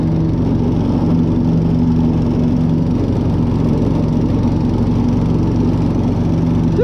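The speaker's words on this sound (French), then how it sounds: "Un scooter tondeuse" A quad-style ride-on lawn mower runs its engine at a steady idle close by, a constant low drone with no change in pace and no talking.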